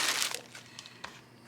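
A plastic bag of white and pink lace and ribbons is handled up close, giving a burst of crinkling at first and then sparse, quieter rustles and crackles.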